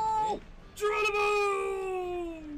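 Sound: cat meowing

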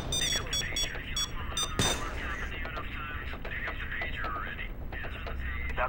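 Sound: alarm going off in video game Payday 2

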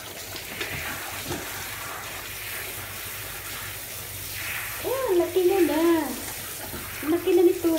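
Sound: water pouring while bathing a dog

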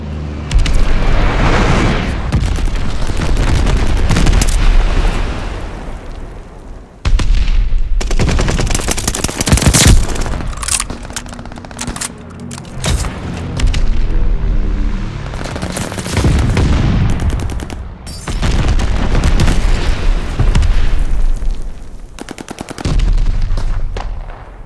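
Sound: glide bomb explosions and gunfire in Call of Duty: Vanguard video game

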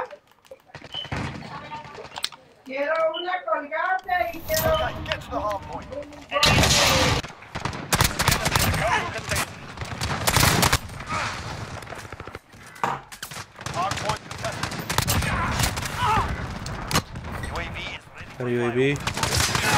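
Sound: shotgun gunfire in video game Call of Duty

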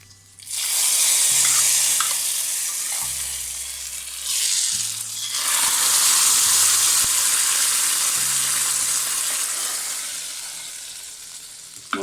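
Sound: stirring roasted coconut paste into sambar

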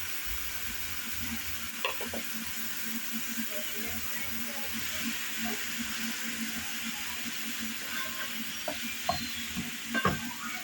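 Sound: spiced leek filling frying in a pan

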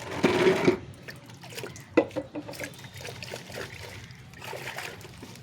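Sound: washing bonsai roots with water

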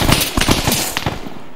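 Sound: gunshot being fired

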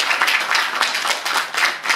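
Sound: audience applause

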